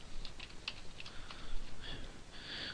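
Quick, light keystrokes on a computer keyboard as a short color code is typed in, a few soft clicks close together, fairly quiet against a faint background hiss.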